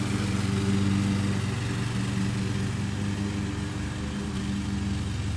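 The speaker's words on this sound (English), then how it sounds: "mowing with a 0 turn" A zero-turn lawn mower engine runs steadily at a low, throbbing drone, close and continuous throughout, with no voices.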